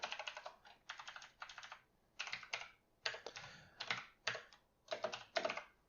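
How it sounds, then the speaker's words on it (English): Typing on a computer keyboard while writing code, with quick bursts of clicking keys broken by short pauses. Close and crisp, with no voices. "Sometimes I get typing a little too fast and I get lost in what I'm doing."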